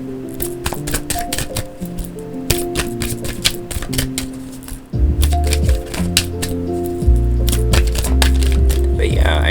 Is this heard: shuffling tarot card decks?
yes